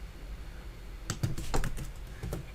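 Computer keyboard typed on in a quiet room: a short burst of quick, close key clicks after about a second of near silence, then a couple more taps.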